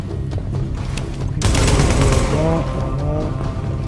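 Gunfire in The Division during a rescue mission, a dense sustained burst of automatic shots that swells louder partway through over a busy game soundscape.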